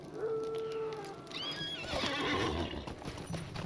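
A horse mount in the online game The Lord of the Rings Online whinnies loudly up close, its neigh rising and falling, followed by a shorter snort and the clip-clop of hooves under faint ambient game sound.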